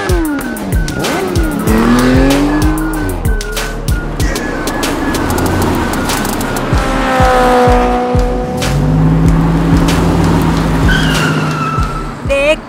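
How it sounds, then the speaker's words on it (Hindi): Cartoon race car engines roar loudly throughout, with repeated tire squeals and skids over continuous engine noise, while voices talk in between. "जल्दी से ये कार चला लो और रेस जीत जाओ।"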